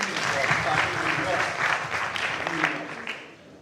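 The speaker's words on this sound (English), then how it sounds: "Round of applause for Tandy." A room full of people at a class reunion claps steadily for a few seconds, with some voices murmuring underneath before the applause fades.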